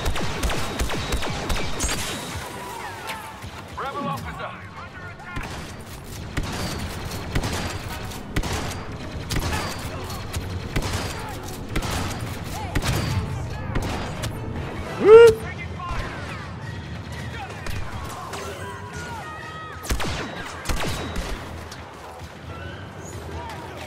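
Blaster fire in Star Wars Battlefront II, a steady barrage of rapid laser shots crackling close and far across a noisy battlefield, with someone talking over the shooting.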